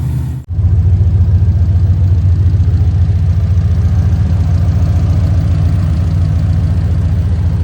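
Turbocharged Dodge Dakota pickup engine idling in a driveway while warming up, a steady low rumble with even chugging pulses that starts abruptly and runs loud and unbroken, with no voices.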